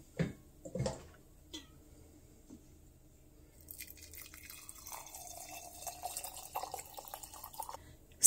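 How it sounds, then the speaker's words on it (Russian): Hot water poured steadily into a glass container, a bubbling, splashing stream that starts partway through after a few faint clinks and drips. "Заливаю горячей водой."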